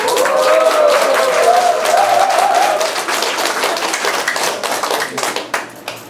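An audience at a cooperative's business briefing breaks into loud, close clapping, a dense burst of many hands that thins out into scattered individual claps before stopping.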